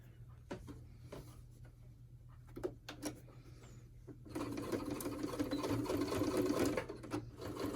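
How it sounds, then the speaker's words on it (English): Sewing machine stitching fabric for a face mask: a few short isolated stitches, then a steady close whirring run of stitching lasting several seconds, fairly quiet overall. "I'm also sewing these two together."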